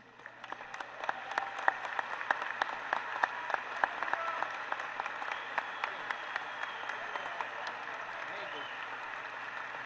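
Sustained applause from a convocation audience, many hands clapping in a dense, moderately distant patter that holds steady for the whole stretch.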